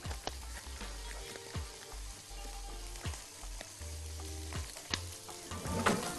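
Meat with onions and potatoes sizzles and fries in a pan while being stirred, giving a continuous crackling hiss broken by scraping stirs and soft clinks, with no talking.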